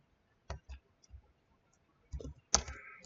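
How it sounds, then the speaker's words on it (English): Keys on a computer keyboard are typed in scattered clusters of a few clicks each, near and fairly quiet, with pauses of silence between the bursts and no talk. "I'm going to type in here, get employees."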